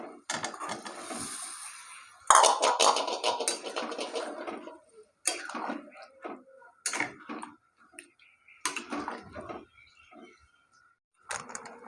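Fried potatoes tipped into a pot of cooking mutton curry, giving irregular clinks and knocks of a spoon against the metal pot, close by, with quiet gaps between them.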